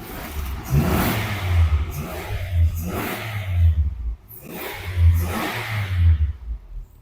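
Car engine on a workshop test with a catalytic converter cleaning machine attached, revved in repeated bursts: five or six swelling rises and falls of a medium engine, loud and close, with no talk over it.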